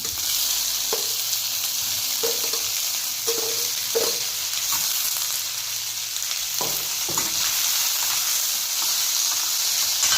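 Curry leaves, green chillies and tomatoes fry in a pan with a steady loud sizzle and hiss, broken by several clacks and scrapes of a spoon stirring.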